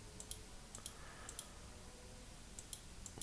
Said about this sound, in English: you can always double click.